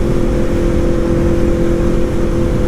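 Aprilia motorcycle accelerating uphill in fourth gear, a loud steady engine drone with a strong humming tone and dense low rumble, close up and sustained without any talking.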